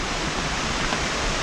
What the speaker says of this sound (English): I hear tranquil water flowing.